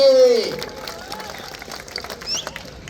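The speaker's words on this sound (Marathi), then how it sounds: "या कुस्तीवरती टाळ्या वाजवणार अमोलचेसाठी" Crowd clapping at a wrestling bout between Sikandar Shaikh and Vishal Bhondu in Balewadi, a broad wash of applause filling the space under loud announcer talk, with a short whistle near the end.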